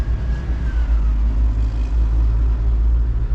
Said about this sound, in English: We do get some truck noise on the side.